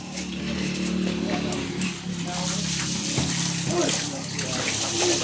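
Washing with water, a steady splashing and running-water wash with scattered clatters under ongoing voices talking throughout.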